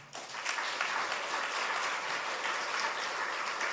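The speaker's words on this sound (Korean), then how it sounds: "인사할 때 격려 박수 해 주시기 바랍니다" A church congregation applauds in encouragement, a dense, even burst of many hands clapping that starts abruptly and carries steadily through the few seconds, moderately loud and free of speech.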